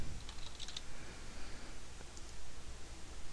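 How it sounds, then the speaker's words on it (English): Quick, light keystrokes on a computer keyboard enter a command, a faint run of clicks under steady background hiss. "type in the command I want it to initiate"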